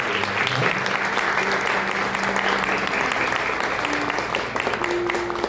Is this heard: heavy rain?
no